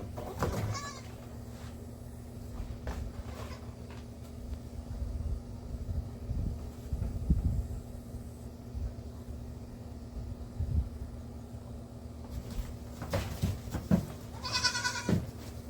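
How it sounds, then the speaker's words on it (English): Bottle-fed baby goats bleat in short high cries, a few at the start and a cluster near the end, over quiet outdoor background hum. "you hear my baby goats behind me"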